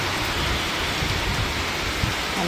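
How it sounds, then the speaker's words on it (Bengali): A heavy monsoon-style downpour pours down in a dense, continuous hiss of rain beating on surfaces, steady and loud with no voices. "আর বলতে বলতে দেখো এই দেখো মুষলধারে বৃষ্টি নেমে গেল।"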